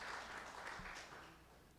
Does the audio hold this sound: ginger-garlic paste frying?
no